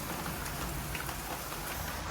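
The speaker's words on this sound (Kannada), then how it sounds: "ಸಿಕ್ಕಾಪಟ್ಟೆ ಜೋರಿದೆ ಮಳೆ" Very heavy rain pours down in a dense, steady hiss, unbroken and enveloping, with no voices over it.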